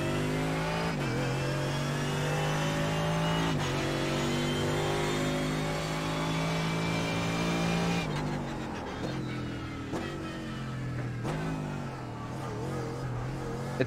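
Mercedes GT3 race car in the iRacing sim, its engine droning loud and close with rising revs, then sharp shifts and throttle lifts as the pitch drops and climbs again.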